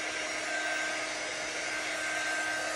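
Hair dryer blowing steadily at close range to dry chalk paste on a transfer, a constant loud whooshing hum with no breaks.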